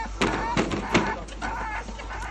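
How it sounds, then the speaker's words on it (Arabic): A chicken clucks in several short bursts, close and fairly loud, with chatter around it. "هاي كلش حلوة هاي الدجاجة"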